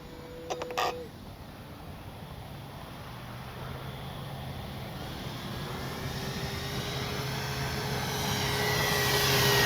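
A Kavan Bristell B23 radio-controlled model airplane in flight outdoors, its motor whine swelling steadily louder as it approaches, after a brief clack at the start.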